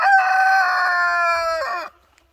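A rooster on a homestead gives one long, loud, close crow lasting nearly two seconds, then it drops into near silence.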